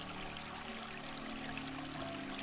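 A gentle stream of water flows down a wooden slope over a poured stone-ground slurry, giving a steady soft rushing wash with no breaks or voices.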